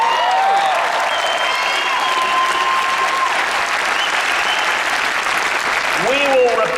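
Crowd applauding and cheering at a Ted Cruz campaign rally in Iowa, a dense, steady roar of clapping with scattered whoops and shouted voices that holds for the whole stretch without fading.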